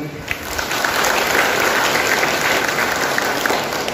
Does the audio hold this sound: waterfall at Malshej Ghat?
no